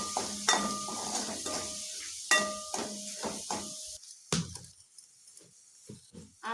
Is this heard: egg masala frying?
yes